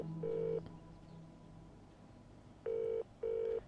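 A telephone call placed in a movie, with a short electronic tone followed by two more repeated tones after a pause, clean and fairly faint, with no talking.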